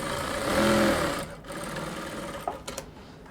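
A sewing machine stitches a pocket onto a dress, a close, steady whirring run that fades out after about a second, followed by a few faint clicks and handling sounds, with no talk.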